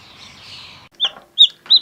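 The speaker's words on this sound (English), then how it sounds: "We have 2 new chicks." Newly hatched chicks from an incubator peeping, several sharp high chirps spaced out after a faint hissy stretch, close and fairly loud with no talk.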